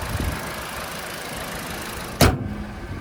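A 2020 Toyota Corolla Ascent Sport engine idles with a steady, even hum, broken near the end by one short sharp knock or clunk before the smooth running resumes.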